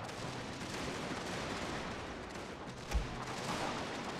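Gunfire from troops in a strategy war game set in the Far East, a dense, steady rattle of distant volleys with one sharper report near the end, heard without any talk.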